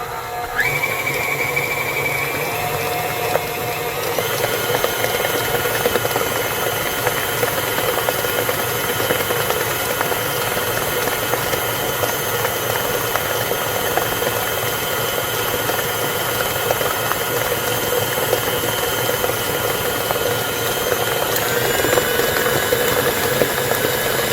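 An electric mixer runs on high while beating buttercream icing, giving a loud, steady, continuous motor whine with a faint rattle, close by and without talk.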